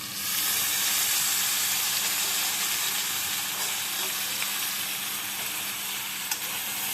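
Chicken pieces fry in a hot pan for mango chicken, a steady loud sizzle and crackle that holds evenly without pause.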